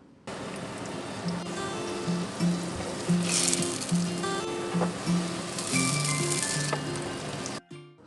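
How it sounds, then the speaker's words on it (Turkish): Katmer flatbread fries in oil in a pan, giving a steady, moderate sizzle under light background music that stops abruptly near the end. "Şimdi ikinci katmerimi tavama aldım. Onu da kızartacağım."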